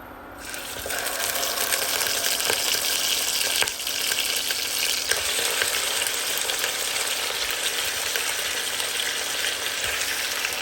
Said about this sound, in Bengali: চিকেনগুলো আমার দেওয়া হয়ে গেছে এখন আমি একটু নাড়াচাড়া করে এটাকে ভেজে নিব